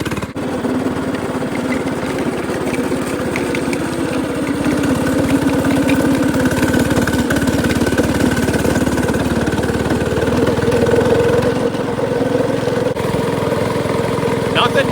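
A lowrider go-kart engine runs steadily throughout a ride, a continuous mid-pitched buzzing drone with slight fluctuations in load, close and fairly loud, with some wind and rattle mixed in.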